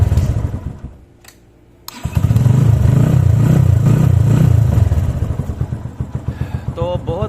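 A motorcycle engine started from a lithium battery pack: a brief whirring crank with a quiet gap, then the engine catches and settles into a loud, throbbing idle close by, with a voice speaking over it.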